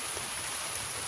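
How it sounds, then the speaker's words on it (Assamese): Steady rain falls outdoors on an overcast day, a dense, even hiss of drops striking surfaces, continuous and fairly close, with no voices. "দেখিছে বৰষুণ পৰি আছে"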